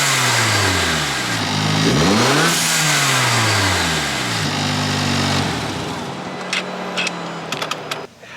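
A Hyundai Elantra N with a Boomba Racing blow-off valve and six-element intake revs up close by in several rising and falling sweeps, then settles into sharp pops and crackles as it drops back to idle.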